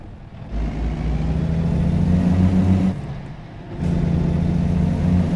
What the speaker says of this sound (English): And be able to hear the rev of the engine again is kind of good.